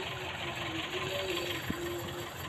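A car engine idles with one spark plug cable pulled from the distributor, giving a steady, close mechanical drone with a faint tonal hum and one small click.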